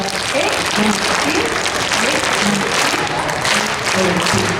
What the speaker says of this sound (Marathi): इथल्या प्रत्येकाने 3 टाळ्या स्वतःसाठी वाजवायच्या